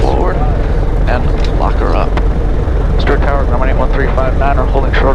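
A Grumman light aircraft engine runs at idle with a loud, steady droning rumble close by, while a voice talks over it throughout.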